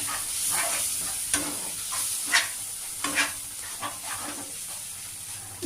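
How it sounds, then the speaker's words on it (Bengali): Turmeric, coriander and cumin powder fry in a pan as they are stirred, a soft continuous sizzle broken by intermittent scraping strokes, fairly quiet and close, with no talk. "মশলাটা আমি এইভাবে কষে নেব"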